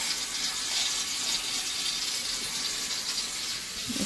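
Tap water running steadily into a kitchen sink fitted with a newly installed Waste King 1/2 HP garbage disposal, a continuous broadband rush heard alone at moderate level.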